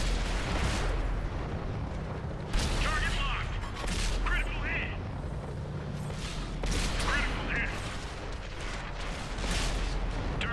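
Artillery cannons firing in a tank combat video game, heavy booming blasts repeating every couple of seconds over a constant rumbling battlefield bed, with players talking over the radio throughout.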